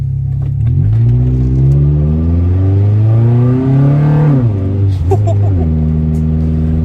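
An Acura Integra engine revs up loudly through its exhaust, the pitch climbing steadily, then drops and settles back into a low, throaty idle rumble.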